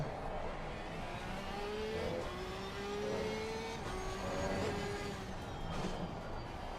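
A race car in Assetto Corsa Competizione at Barcelona braking hard and downshifting, the engine note stepping through several falling and rising whines over steady mechanical roar, quiet and continuous with no talk.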